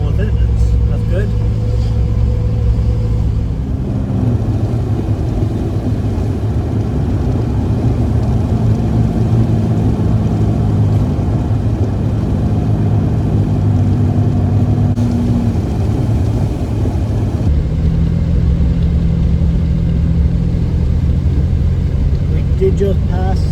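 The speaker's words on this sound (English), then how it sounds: "Katie in the Yukon, like I said, pulling the camper" Yukon SUV towing a camper on a highway drive, with a steady low engine drone and road rumble throughout, a brief change in tone midway, and people talking over it.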